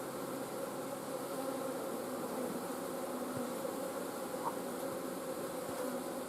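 Honey bees swarm-buzzing at an open hive during a winter inspection in January, a steady dense drone with overlapping wingbeat hum filling the whole stretch, close and continuous.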